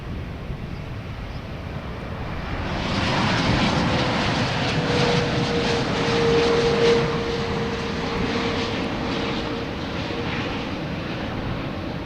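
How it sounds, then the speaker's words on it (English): A jet airliner takes off at Boston Logan Airport, its engine roar swelling from a distant rumble into a loud, sustained rush with a steady whine, heard from outdoors with no talk. "So this is going to be taking off the same time that Delta A330 is landing."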